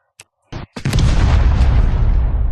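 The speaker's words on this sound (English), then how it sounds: "He blew up my gun." An explosion blows up a gun in the video game Downshot: a couple of short pops, then a loud, full boom that rumbles on steadily to the end.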